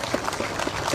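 A crowd at a Bolivian union rally breaks into a brief burst of applause, a dense, steady patter of clapping that lasts about a second.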